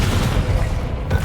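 A single Confringo spell in Hogwarts Legacy bursts with a deep, rumbling boom and crackling fire, loud and close in a brief combat moment.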